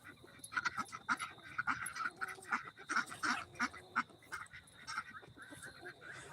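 Farm ducks quack in a busy, uneven series of calls close by, with some goose-like honks mixed in and no talking.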